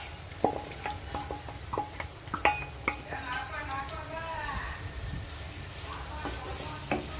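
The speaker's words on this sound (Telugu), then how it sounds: "ఇప్పుడు నూనెలో వేసుకొని మగ్గించుకుందాం." Chopped onions and long-cut green chillies frying in oil in a pan for a Telugu prawn curry, with a soft steady sizzle and several sharp clinks and scrapes of a spoon stirring against the pan.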